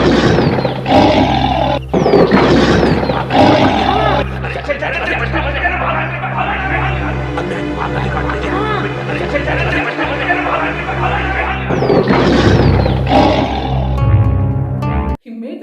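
A person's voice imitates a tiger's roar, with several loud, drawn-out roaring bursts close to the microphone and brief chuckling sounds between them.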